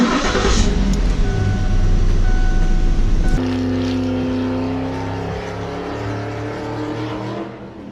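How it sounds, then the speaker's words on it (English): A remotely started 2007 Ford Edge engine runs loud and close, then settles into a steadier, smoother idle hum partway through, with no talking. "today we're doing a remote start on a 2007 Ford Edge"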